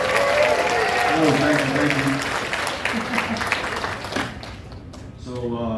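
An audience applauds loudly to welcome a speaker named Jamie at a presentation, the dense clapping gradually thinning out while a single voice briefly thanks them.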